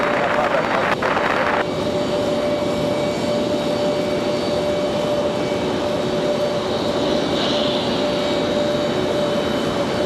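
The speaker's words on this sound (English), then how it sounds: "So here comes our flight from Charlotte, the A320." An Airbus A320 arriving from Charlotte at Raleigh-Durham airport gives a steady, loud engine roar with a sustained tonal whine that holds throughout, heard alone with no talk.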